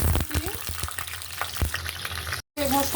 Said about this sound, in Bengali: পেঁয়াজটা একটু ভাজা নিলাম